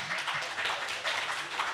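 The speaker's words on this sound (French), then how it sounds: "je vous demande de garder les applaudissements pour la fin" Audience applause at a candidates' debate in Rouyn-Noranda-Témiscamingue, a steady wash of clapping hands lasting under two seconds, moderately loud and even throughout with no speech over it.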